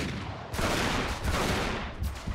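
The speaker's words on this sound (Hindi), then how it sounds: "वाओ ये गन जबरदस्त है।" Rapid gunfire in the video game Uncharted 3: Drake's Deception rattles out in dense, continuous bursts with short gaps, loud and close throughout.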